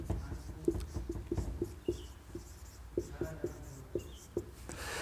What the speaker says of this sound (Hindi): इसको यहां लिख लेते हैं